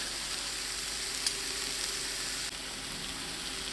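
A salmon entree mixture seasoned with ground pepper and sea salt sizzles steadily in a pan, a continuous even frying hiss with no voices, holding level throughout.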